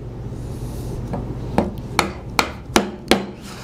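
While a mortise is chopped by hand, a mallet strikes a chisel in wood, landing about six sharp knocks that come quicker toward the end, close and moderately loud with no talk.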